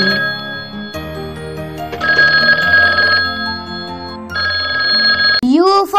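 A telephone ring sound effect plays inside a children's alphabet song, bright repeating bell tones in short bursts over the music, loud and up front, ending with a rising tone.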